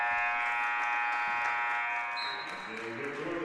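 A loud, sustained electronic buzzer sounds in a high school gym at a varsity boys basketball game, ringing for a couple of seconds before fading under crowd noise and a commentator's voice.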